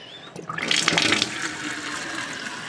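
Water gushes and splashes from a faucet with its aerator removed while a home or cabin plumbing system is drained for winter, rising to a loud rushing stream then holding steady.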